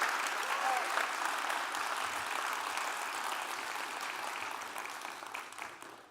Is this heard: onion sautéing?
no